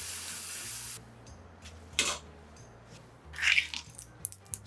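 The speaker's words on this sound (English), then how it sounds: "drain it quickly in your prepared colander, rinse under cold water, and then plunge it into the ice water bath." Cooked pasta is drained in a colander, rinsed under cold tap water and plunged into an ice water bath. A steady rush of running water stops, then quiet splashes and sloshing follow nearby.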